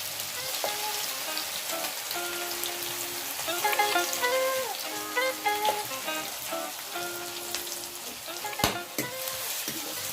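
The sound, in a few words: spices, garlic and onion frying in hot oil for mutton curry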